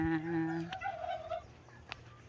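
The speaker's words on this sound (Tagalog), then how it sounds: "May pabo." A turkey gobbles briefly at a moderate distance, followed by quiet outdoor background with a couple of faint clicks.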